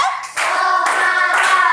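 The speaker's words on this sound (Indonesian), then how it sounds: "Tepuk 1. Tepuk 2. Tepuk 3." A fourth-grade class claps in rhythm, with a few distinct clap bursts under children's voices calling out together.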